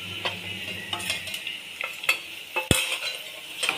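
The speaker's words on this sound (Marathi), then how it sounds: "ते तिन्ही एकत्र छान तेलामध्ये परतून घ्यायचं." Kashmiri red chilli, red chilli powder and sambar masala sautéing in oil, a steady close sizzle with scattered light scrapes and taps of a spoon stirring in the pan.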